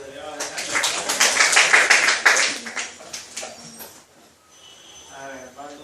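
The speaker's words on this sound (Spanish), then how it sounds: "Un aplauso para su delegado." A university microbiology class applauding its class delegate: a short burst of quick, close clapping that swells and fades within a few seconds, followed by scattered voices.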